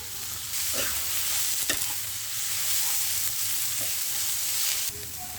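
Bottle gourd leaves hiss and crackle as they are stirred in hot mustard oil, a steady close sizzle with a few scraping stirs across the pan.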